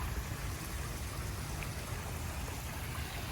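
Steady rushing splash of a 3-foot waterfall spilling into a 10 by 14 foot backyard koi pond, a constant broadband wash of falling water with no voices.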